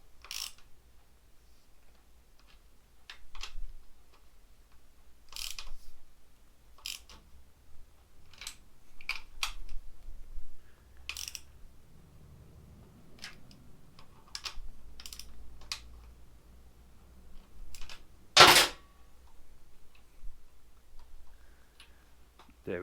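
Bolts on a Harley Davidson Sportster shifter pawl assembly are tightened with a tool, giving sparse, quiet ratcheting clicks at irregular intervals and one sharper, louder metallic burst near the end, with no talking.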